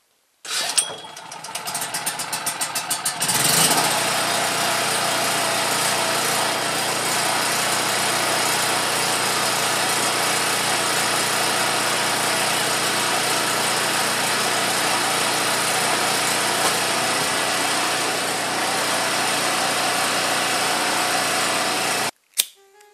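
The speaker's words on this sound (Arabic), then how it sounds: "مروان افتح المولد، افتح نكملوا الحلقة" An electric generator starts with a few sputtering pulses, then settles into a steady, loud droning run that continues for about twenty seconds before cutting off abruptly.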